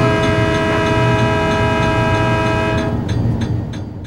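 A Green Bay & Western Alco locomotive, number 314, hauls a 15-car excursion train, its engine drone loud and close under a long, steady horn blast that fades near the end as rail noise takes over.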